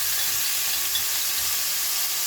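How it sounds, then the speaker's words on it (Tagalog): Marinated pork sticks frying in a hot pan, a steady broadband sizzle holding even and close throughout with no break or voices. "Magpiprito na ako ng pork stick."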